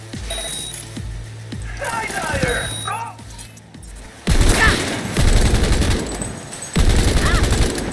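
Weapon fire in Cyberpunk 2077 sounds in loud rapid bursts, first lighter scattered shots and then heavy booming volleys in the second half, with some game sounds mixed in.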